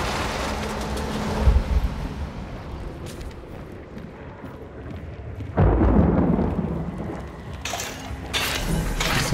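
Thunder in the video game Hunt: Showdown, deep rumbling bursts that roll and fade, with a loud crack near the middle and another swell toward the end, with no voices.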